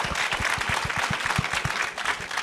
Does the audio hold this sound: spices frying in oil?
no